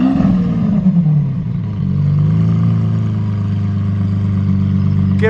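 Lamborghini Aventador SV engine running loud and close, a deep sustained roar that dips and then settles into a steady rumbling idle, with a brief sharp blip at the very end.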